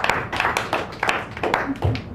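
Scattered hand claps from a small open-mic audience in a San Francisco café, a quick uneven round of welcome with a voice talking briefly over it.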